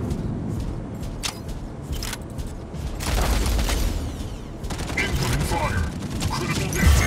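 Mech weapons fire in the Mech Arena video game, the Orion mech unloading bursts of rapid gunfire and heavy impacts over a rumbling battle din, loud and dense, with sharp cracks scattered across the whole stretch.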